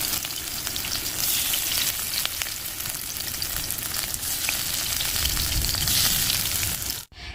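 Corn fritters frying in hot oil give a loud, steady sizzle that runs unbroken for about seven seconds before a brief dropout near the end; no one speaks.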